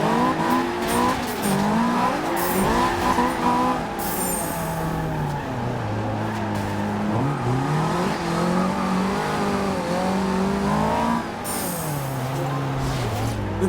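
Engine of a 2016 Mazda MX-5 race car in Forza Horizon 2, a just-over-2,000-pound build, revving hard through rising and falling gear pulls, loud and continuous with brief bursts of tire noise.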